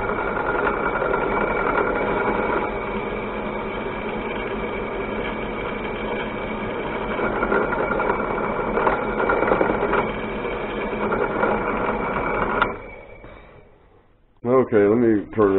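A mini lathe, freshly repaired with new pinion gears, runs in a home workshop with a steady, close whirring motor drone that holds evenly, then cuts off near the end before a brief voice is heard.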